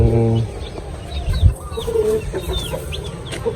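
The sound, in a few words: roosters clucking in a backyard chicken coop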